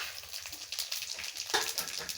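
Dried red chilli, bay leaf and five-spice tempering sizzle in leftover fish-frying oil, giving a faint, steady crackle and patter of spattering oil, close but quiet, with no talk.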